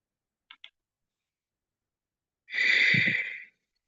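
A single long breath under a guided relaxation cue, one soft airy exhale lasting about a second, close and gentle, after two faint ticks and a stretch of silence.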